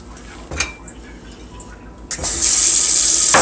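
Tap water gushes steadily into a kitchen sink, starting with a sudden rush after a few light clinks and continuing as a loud, constant hiss to the end.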